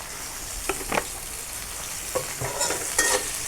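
Loud sizzle of onion frying in hot oil in a pan, broken by several sharp scrapes and clinks of a spoon stirring, with no voices.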